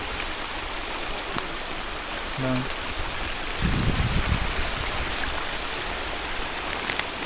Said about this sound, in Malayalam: പോകുന്ന വഴിയെല്ലാം വെള്ളം ഒഴുകിക്കൊണ്ടിരിക്കുകയാണ്.